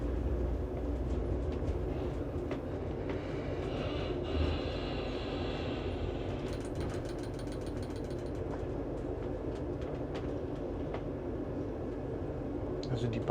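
Greek intercity train rolling into a station platform, a steady low rumble of the carriage with faint clatter and brief higher squeal, heard from inside under quiet talk.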